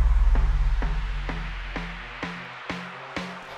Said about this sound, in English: The percussion I use for the build up is just a clap and snare